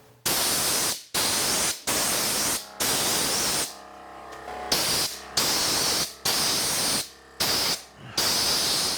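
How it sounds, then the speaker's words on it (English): Close, loud bursts of compressed air from a Milwaukee M18 FUEL portable air compressor blow dust off a table saw, about eight blasts separated by short pauses, with a brief mechanical hum in one gap. "my portable compressor set up right here, the Milwaukee M18 FUEL compressor. This works really nice for getting the last of the dust off"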